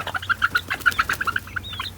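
Chickens clucking in short, repeated calls on their first day outdoors, fairly close, with a steady low hum beneath and no talking.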